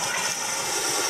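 Steam injector feeding water into the boiler of an 1891 Russell portable steam engine, a loud, steady rushing hiss of steam and water, close and continuous throughout the short span.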